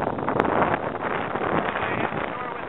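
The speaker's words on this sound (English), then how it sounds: "It is windy as shit out here." Strong wind buffeting the microphone on a shore at midnight during crabbing, a loud, rough, continuous rumble and roar with gusty swells, no pauses.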